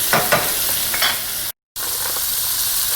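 Food sizzles steadily in a hot pan, a close, continuous crackle with a few stirring scrapes and a brief dropout midway.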